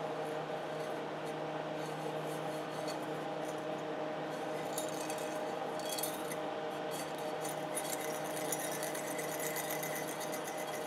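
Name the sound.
cutting the glass end off a CRT tube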